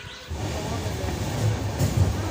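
Low rumbling rattle of a moving train on the Kokrajhar to Guwahati route heard from inside a carriage, steady and moderately loud, with a faint voice in the background.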